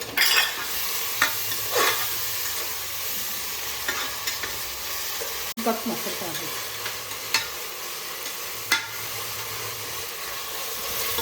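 Ginger garlic paste sizzles in a hot pan for a mushroom biryani while a spoon stirs it, with a steady frying hiss broken by several scraping stirs.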